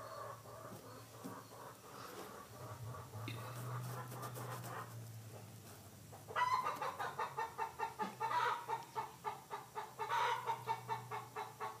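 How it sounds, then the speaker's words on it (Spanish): A hen clucks after laying an egg, starting faint amid low background hum, then breaking into a loud, rapid, rhythmic run of clucks for the last several seconds. "de seguro ya puso una gallina."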